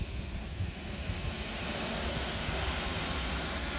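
A Boeing 787 Dreamliner's jet engines roar at Orly airport as the takeoff roll begins, a steady, broad, heavy drone heard close and loud with no voices.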